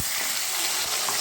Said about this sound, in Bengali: একটু ভাজা চলছে